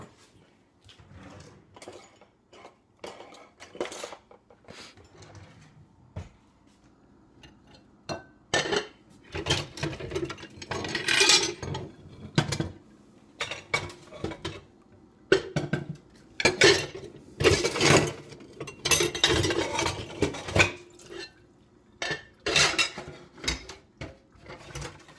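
Dishes and pots clatter and clink as someone rummages through a kitchen cabinet for a mixing bowl, with repeated bursts of knocking and scraping that grow busier and louder toward the end, close by and without talk.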